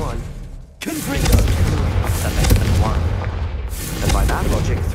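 Confringo fire-blast spell detonating in Hogwarts Legacy, a loud booming burst after a brief lull, followed by rumbling crackle and debris with game voices speaking over it.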